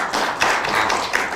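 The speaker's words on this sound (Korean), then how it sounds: "5 후보님께 다시 한번 박수 부탁드리겠습니다." An audience at a candidates' debate for a medical association presidential election gives a short round of applause, a brief, fairly close patter of clapping with a few sharper claps.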